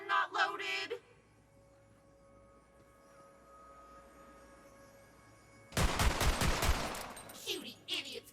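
A burst of rapid gunfire erupts in the looter-shooter game Tiny Tina's Wonderlands, loud and crackling after a quiet stretch, with a game voice speaking briefly at the start.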